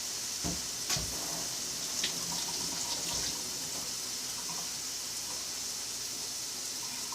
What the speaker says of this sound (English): Let me rinse off a few of these mushrooms.